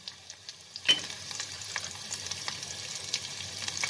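Spices and green chili sizzle and crackle in hot mustard oil after a sudden hiss, with light stirring clicks through a steady, fairly quiet fry.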